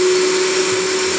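A blender whirs steadily as it purées wet ingredients for a vegan Italian sausage mix, a loud, unbroken motor drone with no pauses or talking.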